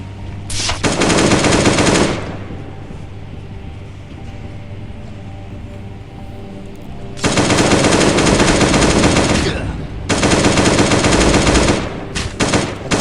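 Long bursts of rapid automatic gunfire in a video game, loud and continuous, broken by a few seconds of quieter background before firing resumes in further sustained bursts.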